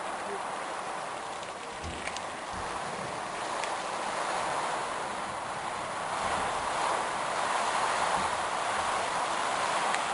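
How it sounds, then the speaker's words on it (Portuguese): Strong storm wind gusting at about 100 km per hour in Rolândia rushes steadily as a broad, loud, continuous roar with rain-like hiss throughout, heard up close. "tempestade na cidade rolante com um vento de 100 km por hora."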